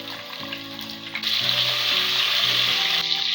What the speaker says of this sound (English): Did you hear that sizzling?